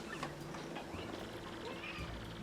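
A cat meows in the Paper Mario: The Thousand-Year Door video game, short calls set against steady, continuous background game audio.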